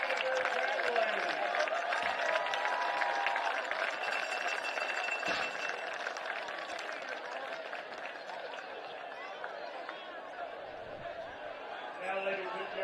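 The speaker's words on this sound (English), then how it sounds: "let's give a big round of applause" At a Hamilton Southeastern at Noblesville High School football game, a stadium crowd claps and cheers for the cheerleaders in sustained, dense applause with scattered whistles, while a voice carries over the noise.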